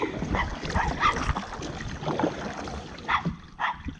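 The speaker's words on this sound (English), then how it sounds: "She's barking for me." A dog barks and yips repeatedly at a distance, mixed with whimpers, over a steady outdoor background hum at a campground at Coleman State Park, New Hampshire.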